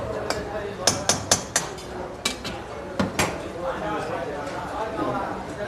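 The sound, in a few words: stirring chicken makhni in a pot over the flame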